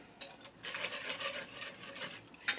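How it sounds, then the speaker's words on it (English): A whisk scrapes and swirls through beef broth in a pan, lifting browned bits from the bottom: soft, fairly quiet rhythmic stirring with a faint clink near the end. "whisk that in there together"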